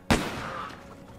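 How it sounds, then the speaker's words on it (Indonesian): A single loud gunshot from a World War II combat film cracks sharply and then trails off into a lingering echo and rumble. "tak lama kemudian terdengar bunyi tembakan."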